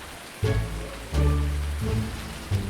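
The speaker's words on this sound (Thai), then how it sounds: "ฝนตกครับนะฝนตกด้วยนะ" Rain falls steadily at a digging site while a Yanmar ViO55-5B mini excavator's engine hums and revs in surges over the patter, up close and fairly loud, with no talking.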